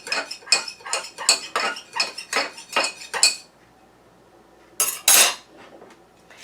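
Spoon stirring honey into hot ginger herbal tea, a quick, regular series of bright metallic clinks against the cup, a short pause, then two final taps.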